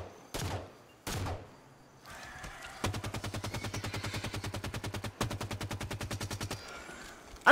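Gunfire from Halo 5: Guardians: two short separate shots, then a long rapid automatic burst of evenly spaced rounds, a brief pause, and one more loud shot at the end, all close and clear.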